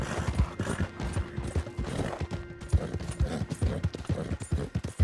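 Horse hooves clip-clop in a steady walking rhythm in the video game Red Dead Redemption 2, mixed with soft rustling and a faint background tone.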